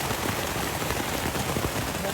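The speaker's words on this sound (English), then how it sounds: "The storm got here and it is raining hard." Heavy rain drums steadily on a hiking tent during a storm on the Appalachian Trail, a dense, even patter that fills the whole moment without pause.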